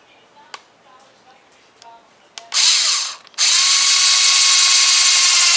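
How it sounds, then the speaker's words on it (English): Power drill boring into the plastic of a BuzzBee Double Shot toy gun, a few clicks, then a loud close whine that stops briefly and resumes steadily. "I'm going to drill this out right here"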